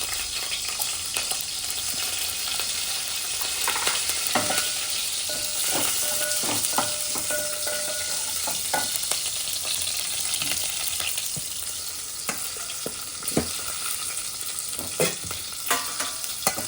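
Green chillies sizzle steadily in a little oil and ghee in a pan, with intermittent stirring scrapes punctuating the soft, continuous frying hiss.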